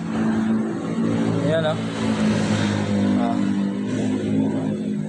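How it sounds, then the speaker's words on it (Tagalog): Honda Click 125 v3 scooter engine idling after cleaning, a steady loud low hum with a slight throb, close, while someone talks briefly over it. "Kaya papakita ko sa inyo kung gaano maganda yung minor nito."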